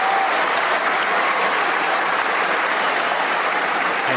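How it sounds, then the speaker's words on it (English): Steady, even applause filling the whole stretch at a constant level, closing a group power call. "I'm going to give an applause as a celebration"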